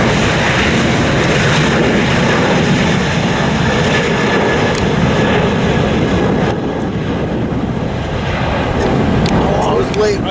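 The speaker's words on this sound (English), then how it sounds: "you see another plane coming into Lindbergh Field" Loud continuous roar of a jet airplane passing close overhead as it comes in to land at Lindbergh Field, steady and rumbling throughout with broad wind-like noise.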